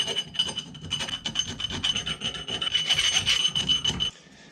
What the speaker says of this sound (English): I've filed that down so there's nothing that comes loose in the future